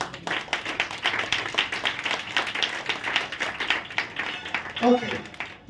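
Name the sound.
congregation clapping hands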